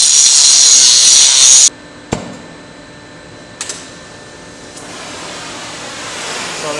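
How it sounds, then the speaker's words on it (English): A power tool grinds a pin out of a chain link on a Supreme 1200 T mixer. A loud, harsh, hissing grind lasts under two seconds, then stops, leaving a few faint metallic clicks and low background noise. "Alright, so we're just going to grind this pin out."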